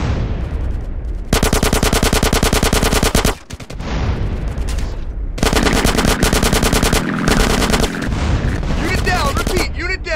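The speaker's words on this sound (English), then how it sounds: "Get some suppressing fire in there!" Suppressing machine gun fire in a war video game mission, loud rapid bursts of automatic shots in long sustained strings, broken by brief pauses and mixed with other battle noise.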